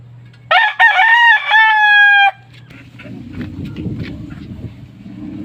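A rooster crows loudly and close by, one long cock-a-doodle-doo lasting about two seconds, followed by softer clucking and farmyard rustle.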